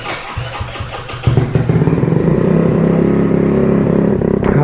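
A Honda Ruckus scooter fitted with a 171cc big bore kit idles, then its engine rises into a loud, steady buzzing drone as it pulls away, close to the listener.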